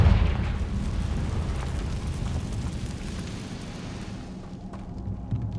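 A deep, rumbling explosion from the Confringo blasting spell in the Hogwarts Legacy video game booms out loudly and gradually fades over several seconds, with no speech over it.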